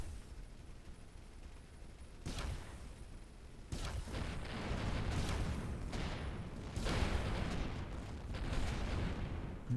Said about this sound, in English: I guess that's maybe launchers that cause all those explosions